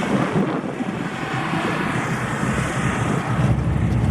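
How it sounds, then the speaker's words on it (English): Cars racing hard around an autocross course at an LS Fest East event give a steady, loud engine roar that fills the whole stretch, with no talk over it. "Out here at the autocross, lots of guys driving fast, having a good time."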